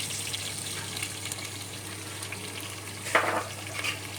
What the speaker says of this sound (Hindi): अब हम इसमें हरी मिर्च डाल लेते हैं, और इसके साथ ही हमने जो प्याज रखा हुआ है 2 वो डाल लेते हैं